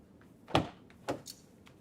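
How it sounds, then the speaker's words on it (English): The freestyle rear-hinged door of a Mazda MX-30 R-EV opens outwards, heard as a quiet handle click followed by two soft latch clunks close by in a calm setting. "Once you've opened the front door, simply find the handle on the freestyle door and open outwards."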